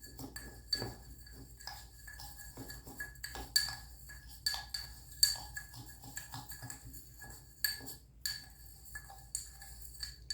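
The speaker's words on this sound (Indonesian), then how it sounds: "Kita masukkan vitamin C. Kemudian kita aduk." Vitamin C being stirred into water in a glass, with faint light clinks and taps of a spoon against the glass in an irregular rhythm, quiet and close.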